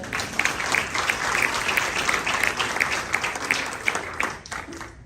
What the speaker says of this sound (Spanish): un aplauso para Memo